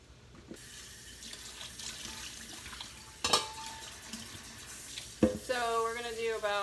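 Water runs from a kitchen tap for cooking rice, a soft continuous splash with a few clanks, then a louder pour into a pot near the end as the pitch rises while it fills.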